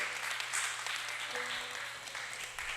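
Audience applause at a church morning gathering, a dense and steady wash of many hands clapping that carries through the whole stretch without any talk over it.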